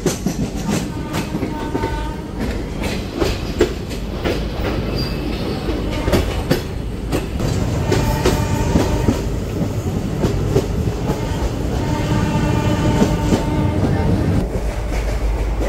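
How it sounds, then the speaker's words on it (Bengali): A train pulls into Dum Dum Junction in Kolkata, its wheels clattering in a rapid clickety-clack over rail joints with metallic squeals, loud and close throughout. "এই হলো দমদম জংশনে ঢুকছে ট্রেন।"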